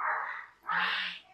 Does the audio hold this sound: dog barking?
yes